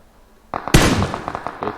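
Gunshots in a video game: a sharp close burst followed by a quick string of smaller pops and cracks over about a second, loud and without speech.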